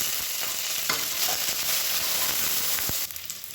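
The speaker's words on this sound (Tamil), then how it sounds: "இப்போ இது எல்லாமே நல்லா பொரியணும்." Fenugreek, mint, coriander and three green chilies frying in a pan, a steady broadband sizzle with a few soft stirring scrapes, close and continuous, with no talking.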